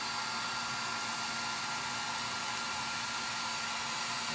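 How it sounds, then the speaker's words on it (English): Heat gun shrinking heat shrink tubing on a backup camera wire, a steady close blowing hiss that runs unchanged throughout with no voices. "Heat shrink it down till it just closes right up."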